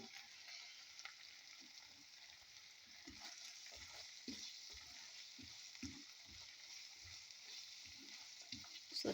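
Bagoong alamang, a shrimp paste, fries in a pan with a steady, loud crackling sizzle that holds for the whole stretch, broken now and then by small soft clinks of stirring.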